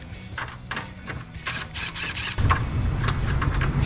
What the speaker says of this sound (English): the last step I have to do is remove these 3 7/16 bolts